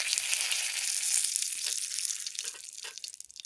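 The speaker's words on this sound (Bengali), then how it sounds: "এবার একে একে মশলাগুলো তেলের মধ্যে দিয়ে দেব।" Bay leaf and whole spices drop into hot oil in a wok and fry with a bright, hissing sizzle. It starts strong and steady, then thins into a crackling spatter as it fades, close and with no talk.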